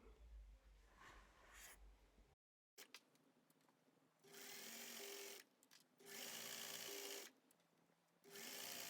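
Sewing machine stitching the inner leg seam of elastic waist culottes, running in several close, even bursts of fast whirring broken by brief pauses and handling sounds.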